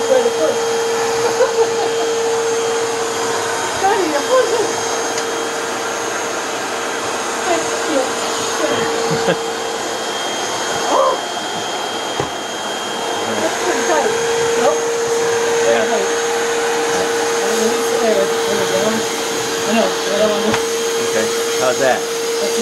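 A Santaire Extend Mighty Mite vacuum cleaner runs steadily up close with a constant motor whine, its pitch shifting slightly as the motor speed changes and it strains, with no voices over it.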